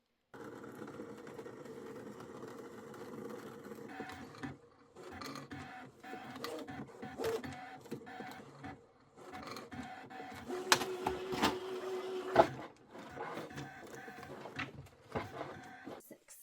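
A ScanNCut electronic cutting machine cuts fiberform for a freestanding cuckoo clock, with a faint whirring motor and intermittent mechanical clicks and buzzes that start and stop across the cut, heard close and quiet.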